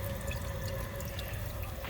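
Cooling water from a lab distillation condenser tube runs steadily into a sink, a continuous faint trickle and splash with a soft tonal hum underneath and no talk.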